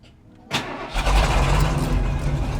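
A 34-year-old Ford F-150 that sat unused for nine years cranks, catches and fires up, then settles into a steady loud rumbling idle nearby.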